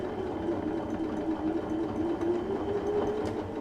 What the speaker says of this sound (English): I'm going to start sewing on the fabric